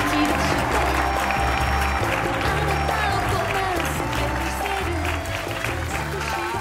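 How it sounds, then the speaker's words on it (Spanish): Audience applause at a live comedy show as a guest is welcomed, mixed with thumping music and some talk, sustained throughout at moderate loudness. "Un aplauso, por favor, para Satomi Morimoto."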